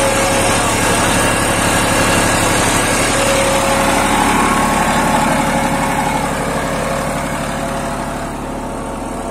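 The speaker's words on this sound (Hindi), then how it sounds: "1500 आरपीएम के लगभग ट्रैक्टर चल रहा है।" A Massey Ferguson 244 DI Dynatrack 4x4 tractor engine runs steadily at about 1500 rpm, pulling a nine-tine cultivator, a continuous loud mechanical drone with a rhythmic low throb, fading slightly near the end.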